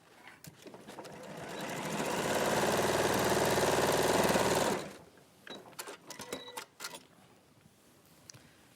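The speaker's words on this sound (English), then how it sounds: "you're just going to sew over the top to create that box bottom" A sewing machine stitches straight across the seams of a bag to form a boxed bottom, running as a steady, fast mechanical whir for about three seconds before stopping, followed by quieter clicks and handling noises.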